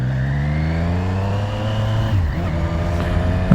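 Engine of a 2020 Triumph Street Triple RS motorcycle while riding through a neighborhood, a steady close drone rising slightly in pitch as it accelerates, with wind rush throughout.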